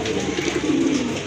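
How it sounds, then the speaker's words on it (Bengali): A pair of large Rajgolla pigeons coos close by, one continuous throaty burbling call that deepens and strengthens midway, with no voices over it. "অনেক বড় সাইজের এক জোড়া রাজগোল্লা কবুতর"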